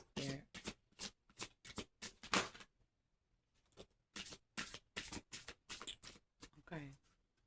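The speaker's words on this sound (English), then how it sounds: "Alright, one last shuffle there." A deck of cards is riffled and shuffled in a quick series of sharp fluttering bursts, close and crisp, with short pauses between and one longer gap.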